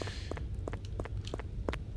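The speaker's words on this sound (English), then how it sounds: "it's the sound of my footsteps" Footsteps in the game Anomalous Crossing: Shibuya: a steady run of soft, evenly spaced steps, about eight in two seconds, close and fairly quiet over a low background hum.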